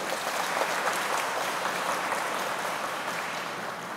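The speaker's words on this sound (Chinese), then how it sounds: "现在呢，我们要用最热的掌声" An audience at a formal ceremony applauds in a steady, dense wash of clapping that holds evenly throughout, with no voices rising above it.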